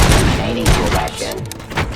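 Bursts of gunfire and heavy thuds ring out in the RoboCop: Rogue City video game, loud and continuous across the moment, with a voice speaking over the shooting.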